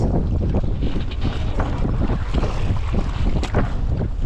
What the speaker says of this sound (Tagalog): lakas pa rin ng hangin, lakas pa rin ng agos.